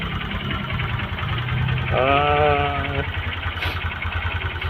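A Honda Verza motorcycle engine runs at a steady idle, its even thumping pulse continuous throughout, with a brief tonal whine in the middle and no speech.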